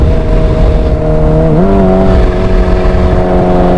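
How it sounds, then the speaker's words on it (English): Kawasaki Ninja H2 motorcycle engine droning loud and close with a steady exhaust note, then a quick downshift blip that lifts the pitch partway through before it settles into a higher hum. "I just downshifted again in the third gear, in the second"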